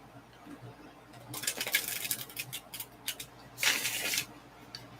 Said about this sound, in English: wait there patiently while I shuffle the cards